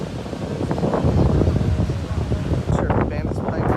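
Strong wind roars across the microphone at Cedar Point amusement park near the waterfront, a loud, continuous rushing gust that eases slightly toward the end.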